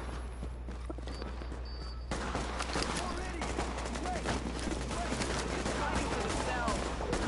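Gunfire from the video game Tom Clancy's The Division, bursts of shots breaking out after a quieter start and continuing as a steady crackle of rounds over a constant low rumble, with a voice speaking at times.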